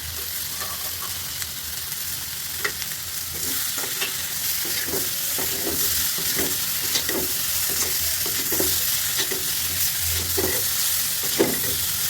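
Onion, garlic, ginger and chili fry in a pan with cumin and garam masala while being stirred, giving a steady, loud sizzle broken by repeated scraping strokes of the spoon, with no talking.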